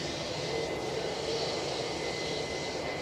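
An ATR turboprop aircraft at Edinburgh Airport gives a brief, even, moderate engine drone, heard steadily from a distance with no voices over it.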